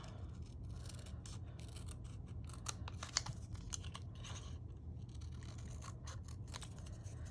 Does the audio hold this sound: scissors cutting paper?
yes